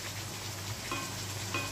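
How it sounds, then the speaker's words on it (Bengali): Raw boal fish pieces being sautéed in a pan, a soft steady sizzle with faint scraping of stirring over 2 seconds, close and quiet with no talk. "এইভাবে মাছটাকে কষিয়ে নিতে হবে"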